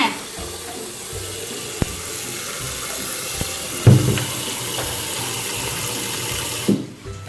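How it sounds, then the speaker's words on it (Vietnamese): Rice being washed in water in a home kitchen, steady running and swishing water with a few soft knocks, moderately close, no talk. "Chúng ta sẽ vo gạo 2 lần nước nha."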